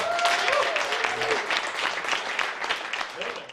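An audience at a Songs for Supper food bank Christmas concert at The Refinery in Saskatoon applauds two performers, a sustained crowd clapping with scattered cheers and a few voices, fading slightly toward the end.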